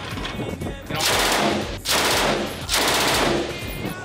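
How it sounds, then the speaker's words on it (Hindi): Soldiers' weapons fire in sustained loud bursts of rapid automatic gunfire, three long volleys separated by short pauses at a Pakistan Navy exercise, close and harsh. "ये आप देख रहे हैं कि इस वक्त फायरिंग हो रही है और कान जो है फायरिंग की आवाज़ से बिल्कुल बंद हो गए हैं"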